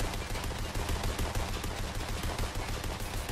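Sniper gunfire in Fortnite, a dense stream of loud, rapid, overlapping shots that runs continuously and evenly throughout, with no voices over it.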